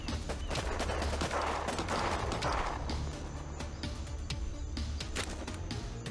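Enemy gunfire in the video game Warpips rattles steadily in a crackling mix of battle sounds, moderately loud and continuous.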